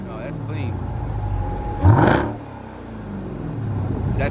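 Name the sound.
2018 Jeep Trackhawk SRT engine revving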